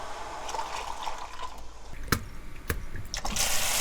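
Water running and splashing while oysters are washed, with a steady wash of flow broken by a few sharp splashes and clinks, growing louder toward the end.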